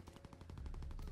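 Rapid automatic gunfire from an M1941 rifle in a video game, a fast, even stream of about a dozen sharp shots, loud and continuous with no voices.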